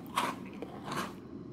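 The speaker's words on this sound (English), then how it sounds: "Man, it's a crunchy meal bar." A crunchy meal bar bitten in Final Fantasy XIV, two distinct crisp crunching bites about a second apart, close and fairly quiet with no talk.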